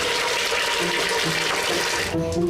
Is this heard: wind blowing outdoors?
no